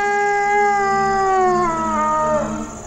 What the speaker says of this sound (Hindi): ये कुत्ते की आवाज मुझे कैसे सुनाई दी?